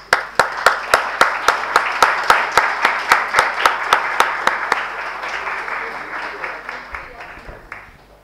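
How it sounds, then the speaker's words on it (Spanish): An audience claps for honored speakers at an academic law department session. The clapping starts as loud, evenly spaced rhythmic beats, then blends into a denser, fading wash of applause over about eight seconds. "Y nosotros con un gran aplauso."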